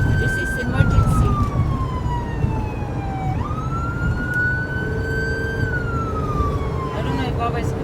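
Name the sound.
ambulance emergency siren in Dubai traffic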